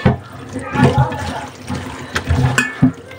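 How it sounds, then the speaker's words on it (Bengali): Water splashes and sloshes as cut fresh small fish are washed by hand with salt, a close, uneven run of wet swishes and drips. "এখন লবণ দিয়ে ভালোভাবে ধুয়ে নিতেছি।"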